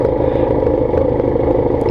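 A Benelli motorcycle engine drones steadily and loudly from close by while riding in traffic, a constant dense rumble with no revving swings and no speech.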